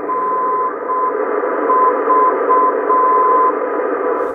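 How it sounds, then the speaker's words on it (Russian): Radio navigation beacon received at 335 kHz on a shortwave antenna outdoors in a winter forest: a steady tone keyed in on-off Morse-style dashes over a dense bed of radio static. "на такой низкой частоте, слышно приводной маяк на эту антенну"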